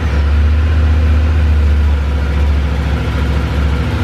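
A Yamaha Tenere 700 motorcycle engine idles steadily after an oil change, a loud, close, low, even rumble with a fast regular pulse and no talking.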